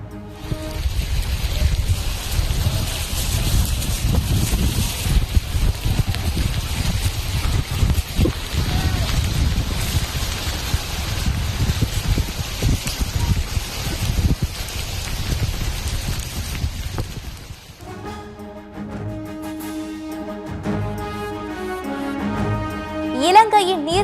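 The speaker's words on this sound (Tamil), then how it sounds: "மகாராஷ்டிரா மாநிலம் மும்பை, தானே உள்ளிட்ட பல்வேறு பகுதிகளில் இடைவிடாமல் கொட்டும் மழை" Heavy, relentless monsoon rain pours down across Mumbai and Thane in news footage, a loud dense hiss of drops on surfaces lasting most of the clip before giving way to music.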